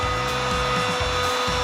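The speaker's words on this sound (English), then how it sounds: "Just a hair dryer is enough." Continuous loud whooshing airflow from a hair dryer on a 60-70 degree setting, heating decals on a T4 van, steady and broadband, with some low knocking or handling noises mixed in; no speech.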